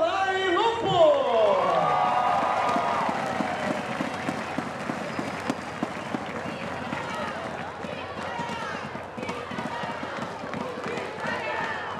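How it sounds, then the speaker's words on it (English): Crowd at a women's beach volleyball semifinal in Vitoria, Brazil, applauding the Italian team: sustained clapping and cheering under an announcer's amplified voice, with a rhythmic clap pattern settling in as it continues. "Everybody clap your hands for Italy team, Nicolai e Lupo!"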